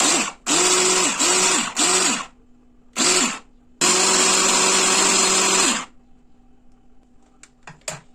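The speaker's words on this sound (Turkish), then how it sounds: "Ve şimdi bunu robotumuzda çekeceğiz." A food processor grinds a raw çiğ köfte mixture in loud motor bursts: three short pulses, a pause, another short pulse, then a long two-second run, each with a rising and falling whine, before a quiet hum remains.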